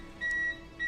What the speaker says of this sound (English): It's probably the surge protector that's beeping at me.